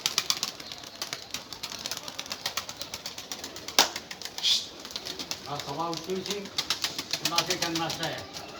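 Pigeons in a coop beat their wings in a few quick, close bursts, and soft cooing follows toward the end. A faint murmur of voices sits underneath.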